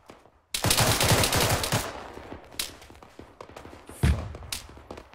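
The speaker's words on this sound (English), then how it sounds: "He's shooting very accurate." Enemy gunfire in the military shooter Arma 3: a sudden loud burst of rapid automatic shots, then scattered single cracks and a second sharp report, nearby with little talk.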